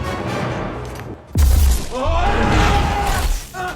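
A delayed grenade goes off in an action film scene, a sudden deep booming blast followed by rumbling debris and ringing tones that stay loud for a couple of seconds before easing off.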